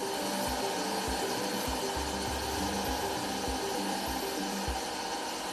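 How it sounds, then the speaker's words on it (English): Sanding machines smoothing carved sculptures made from recycled flip-flop foam in a Nairobi, Kenya workshop, giving a loud, steady grinding whir with rhythmic low thumps, continuous and close without any talk. "use these sanding machines to smoothen the sculptures"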